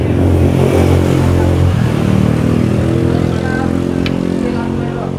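Yamaha Jupiter Z motorcycle engine revving loudly and steadily up close during a charging test after a new regulator is fitted, its harmonic drone holding throughout and easing slightly near the end.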